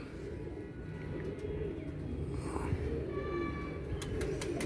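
A Visakh fadiya pigeon coos in soft, low, rolling calls over a steady background hum, with no talking.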